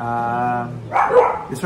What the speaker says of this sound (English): Please, I apologize for my dog barking.